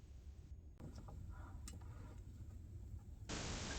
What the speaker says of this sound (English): It just wouldn't be a work site without my hens